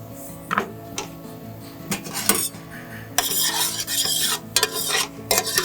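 Garlic is tossed into onions sautéing in a skillet, giving a quiet sizzle broken by scraping, clinking stirs of a utensil against the pan, with bursts of louder frying hiss partway through.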